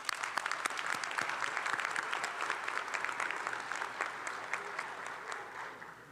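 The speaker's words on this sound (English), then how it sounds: "Let's give these students a round of applause." Audience clapping for a physician assistant class at a white coat ceremony, a lively burst of applause with crisp individual claps that gradually thins and softens toward the end.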